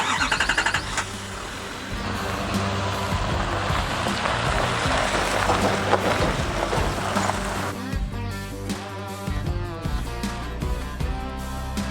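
Steady vehicle rumble with road noise, continuous and fairly loud throughout, like riding inside a truck moving along a road.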